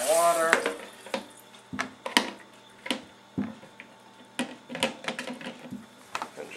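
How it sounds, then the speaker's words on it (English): Red potatoes are rinsed under a running kitchen tap, with close splashing and scattered knocks as they are handled in the water stream, and a brief voice at the start. "run them under some water."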